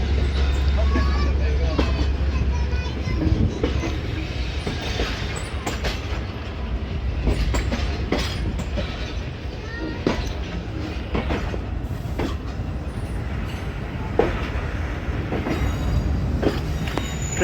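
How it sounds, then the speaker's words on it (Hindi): Karakoram Express passenger train, 41 Up, pulling out of Faisalabad station: a steady rumble of moving railcars with wheel clatter and occasional squeal, with people talking over it throughout. "तो ट्रेन हमारी मूव होना शुरू हो गई है फैसलाबाद रेलवे स्टेशन से"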